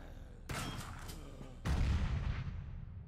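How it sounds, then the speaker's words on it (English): Two sudden blasts from an explosion in the sci-fi roguelike game Quasimorphosis, a sharp crack followed about a second later by a heavier boom with a rumbling low tail that fades out. "God, that explosion is cool."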